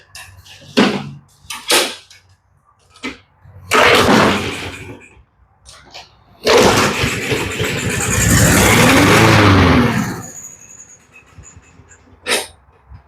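A Briggs small engine with a cleaned plastic carburetor is primed with starter fluid and pulled over, giving clunks and short sputters, then a rough burst of running that revs for several seconds before dying, loud and close.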